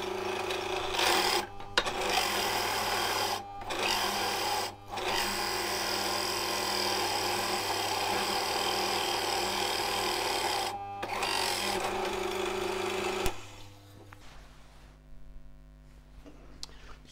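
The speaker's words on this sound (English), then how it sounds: "so go over to the drill press" A drill press bores into a short wooden loquat board, a loud steady mechanical whine with brief dips as the bit cuts, then winding down into quieter shop hum near the end.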